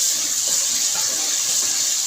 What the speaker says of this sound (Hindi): तो यहाँ पे थोड़ा सा मैं डाल दूँ, इससे 2 खाने के चम्मच पानी।